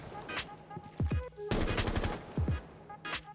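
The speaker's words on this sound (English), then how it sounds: "if you want to destroy this music, all you have to do is shoot these speakers" Rapid gunfire in the video game Rainbow Six Siege, aimed at music speakers: sharp bursts of shots fired close up, one sustained volley in the middle, with game music playing underneath.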